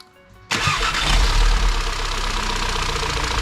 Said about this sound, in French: on va faire un premier démarrage pour voir comment elle se comporte.